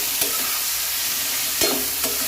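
Salted tomatoes fry on a high gas flame for a potato bhaji: a loud, constant hiss and sizzle with a few scraping strokes of stirring, and no talk.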